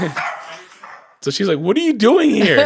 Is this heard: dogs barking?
yes